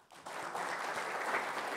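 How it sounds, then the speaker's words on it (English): Lecture-hall audience at an interactive physics program claps in a dense, steady burst that starts abruptly and holds at full strength for under two seconds. "Big round of applause."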